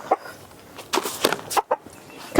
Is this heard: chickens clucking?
yes